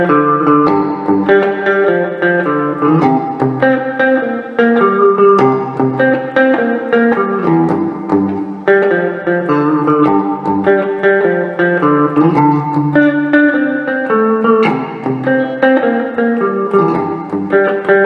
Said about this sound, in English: Let me just put the reverb on full to give you an idea of the extremes we can get out of this.